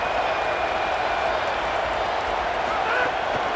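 A hostile stadium crowd roars in the College Football 27 video game during a game against Mississippi State, a dense continuous wash of cheering and noise that holds steady throughout.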